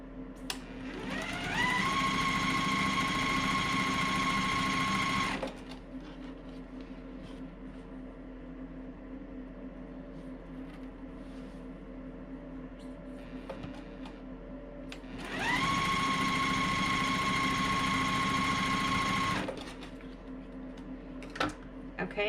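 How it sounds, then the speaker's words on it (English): Sewing machine stitching gingham and teal quilt squares along a drawn line, running in two steady bursts of about four seconds each with quiet pauses between, close and clear over a low background hum. "we're going to stitch on the drawn line."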